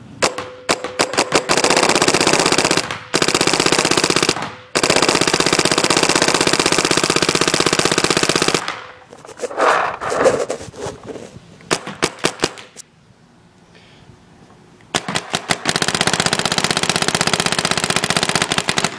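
An Etek 3 LT paintball gun fires rapid automatic bursts running at about 15.4 per second, loud and close, with long sustained strings broken by short pauses and a quieter stretch of scattered shots in the middle.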